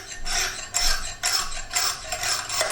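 A kitchen knife is drawn across a diamond sharpener with light pressure, giving rhythmic raspy scraping strokes, about five in a row, close and clear.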